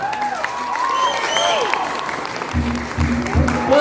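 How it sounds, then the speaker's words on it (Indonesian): Audience clapping at a Balinese bondres comedy performance, a steady wash of applause mixed with cheering and voices, with a low rumbling thump entering toward the end. "tepuk tangan dong."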